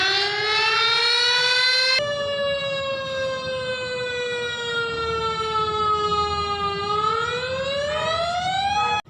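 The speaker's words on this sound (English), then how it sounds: "Sirens," A loud siren wails continuously, its pitch gliding steadily down and then sweeping back up, with no other sounds around it.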